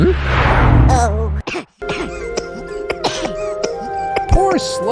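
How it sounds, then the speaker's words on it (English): Someone coughs and clears their throat from exhaust fumes at the start, followed by cartoonish sound effects and clattering with a voice, in an animation. "left coughing in the fumes of exhaust and anger"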